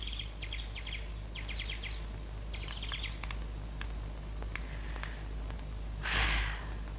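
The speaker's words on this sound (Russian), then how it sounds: "Слышите, соловьи?" Nightingales singing outdoors at a quiet night, several bursts of rapid trilling and chirping phrases over a low hum, moderately distant, with a short breathy noise near the end.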